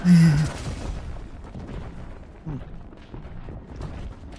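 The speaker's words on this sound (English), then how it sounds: "We got gunshots." A loud boom at the start, then a few fainter distant reports scattered through a rumbling outdoor background.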